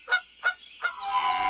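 Three loud goose honks come in quick succession, each a short nasal blast, followed by a rising, sustained honking cry that trails off at the end.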